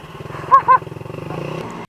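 Honda PCX scooter and Yamaha Raider motorcycle engines drone steadily at low level, with two short tonal blips partway through and no speech.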